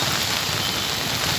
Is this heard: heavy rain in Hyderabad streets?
yes